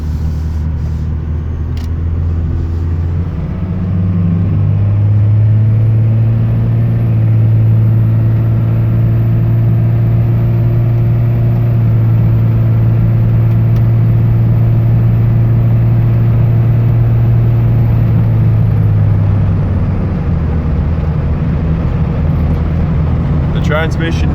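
A Cummins diesel engine paired with a 5R110 transmission idles and pulls, a steady low rumble that rises as the gears shift smoothly; someone talks over it throughout.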